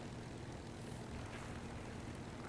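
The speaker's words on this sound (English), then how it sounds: "There's just planes everywhere." Many airplanes flying in War Thunder, a steady wash of propeller engine drone filling the scene at low volume, with no speech.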